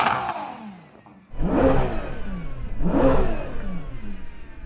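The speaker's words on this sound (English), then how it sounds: "can you hear my car revving?" Hybrid car engine revving hard twice in close succession, each rev rising in pitch and then falling away, loud and close with no talk.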